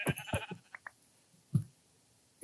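Sheep in the video game Minecraft bleat several times in quick succession, short wavering cries at moderate loudness, followed by one more bleat after a brief pause.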